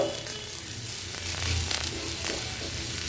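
Spices and vegetables sizzle in a hot pan, a steady hiss that swells and eases as they sauté, with faint clatter.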